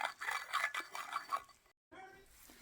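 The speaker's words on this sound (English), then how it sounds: "Now you just stir the baking soda and the glue together." Baking soda and glue being stirred together in a container for slime, a soft repeated scraping and clinking of a utensil against the sides in rhythmic strokes, close and fairly quiet, then a brief pause.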